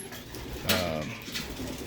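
Racing pigeons coo in a pigeon loft, a steady murmur of soft throaty calls with one louder, closer coo partway through, set against low background room noise.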